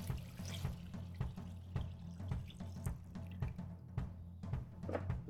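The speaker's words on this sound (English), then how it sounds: "So grab your filtered water, add it to the Moccamaster." Filtered water is poured into the reservoir of a Moccamaster coffee maker, a steady trickling, splashing stream heard close and fairly quiet, continuing throughout without talk.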